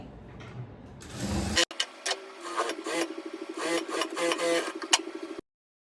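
Sewing machine stitching an Anarkali dress panel, a fast run of rapid mechanical stitching that starts and stops in short bursts, close and fairly quiet, then cuts off abruptly.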